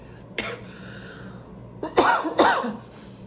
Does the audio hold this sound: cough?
yes